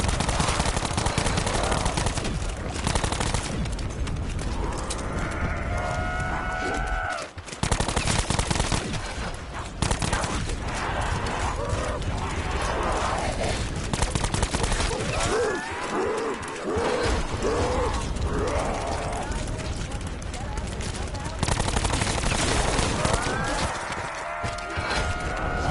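Gunfire in Call of Duty Black Ops 4 Zombies, with dense, near-constant shooting and clattering effects running throughout, interrupted by brief lulls and layered with screeching creature and game sounds.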